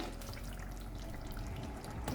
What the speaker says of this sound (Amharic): ጣጥኩትን ውሃ ጨምራለሁ።